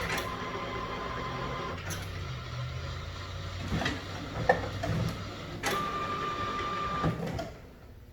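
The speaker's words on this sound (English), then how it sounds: "Just waiting for my printer to turn on." An inkjet printer with a damaged part powers on and runs its startup cycle: a steady mechanical whir with several sharp clicks and knocks, a brief tone, then the motor winding down near the end.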